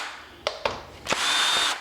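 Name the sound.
power drill removing screws from washing machine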